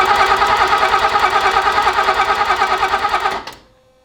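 A BMW E30 engine cranks over on the starter with a loud, rapid rhythmic churning that runs for several seconds without catching, then cuts off into quiet.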